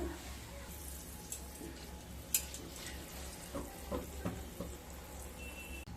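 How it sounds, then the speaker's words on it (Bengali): Dry chili, cardamom, cloves and cinnamon fry in mustard oil in a wok, giving a quiet, steady sizzle with occasional faint clinks and stirring sounds. "তেলের মধ্যে একটা শুকনো লঙ্কা, 2টো এলাচ, 3টে লবঙ্গ, সামান্য দারচিনি দিয়ে দিলাম"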